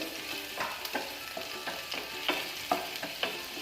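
Garlic is stir-fried in hot oil for chilli chicken gravy: a bright continuous sizzle broken by repeated spatula scrapes and taps against the pan, close and fairly loud.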